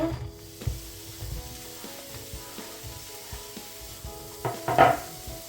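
Chopped onion frying gently in a few spoonfuls of vegetable oil in a pan, a steady soft sizzle with occasional stirring clicks and a brief louder flare near the end, close by and with no voices.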